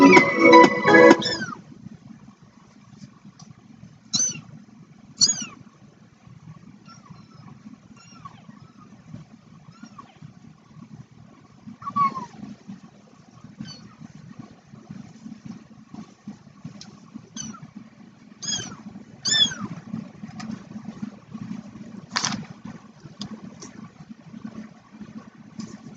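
Two-week-old kittens meow in thin, high, repeated cries scattered across a quiet room, some close and clear, others softer, over a low steady hum.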